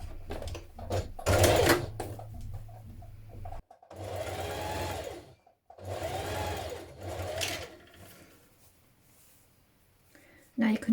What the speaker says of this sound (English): So we'll carry on stitching that neck binding to it now.